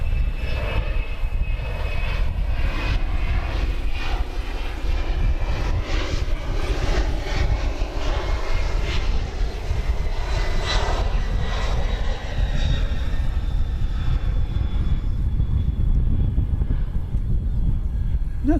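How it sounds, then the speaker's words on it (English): Jet airliner passing at night at DFW Airport, a loud continuous engine roar with rising and falling whine across the whole span, with wind buffeting the microphone. "That's a good looking plane at night."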